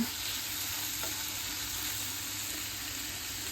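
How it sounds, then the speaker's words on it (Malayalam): Tomato chutney simmering and sizzling on a low gas flame, a soft continuous frying hiss with a couple of faint stirring taps, quiet and close, no voices. "ഗ്യാസ് സ്ലോ വെച്ചിട്ട് വേവിക്കാം ഇടയ്ക്ക് ഇളക്കി കൊടുക്കണം"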